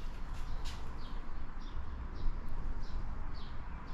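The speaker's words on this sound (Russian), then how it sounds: "Слышите, птицы поют." Birds calling outdoors in a quiet natural spot between mountains and sea, short repeated chirps spaced about every half second, faint against steady wind rustling leaves.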